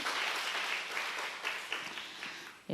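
A church congregation applauding during an evening worship service, dense steady clapping from many hands that carries on throughout before tapering near the end.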